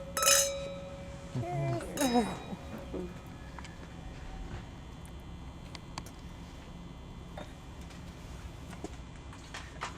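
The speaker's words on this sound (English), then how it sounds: "You don't like to clink? No, the clinking." Wine glasses clink together during a toast at a Napa Valley grapegrowers' harvest press conference, a few bright clinks near the start over room noise, then quiet murmur.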